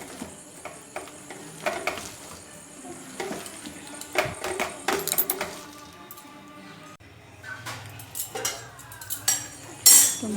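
Red lentil batter for lentil fritters being beaten by hand in a dish, with irregular wet slaps, clinks of the dish and utensil scrapes, close and uneven, with occasional louder knocks.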